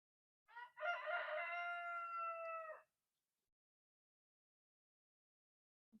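A rooster crows once among chickens, a single clear cock-a-doodle-doo lasting about two seconds, heard close and alone, followed by quiet.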